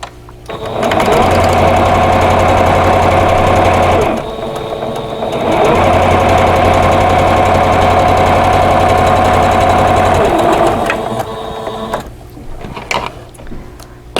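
A sewing machine stitches a vintage-style quilt block in two steady runs of motorized whirring, loud and close, separated by a brief pause, then a few clicks and handling noises as it stops.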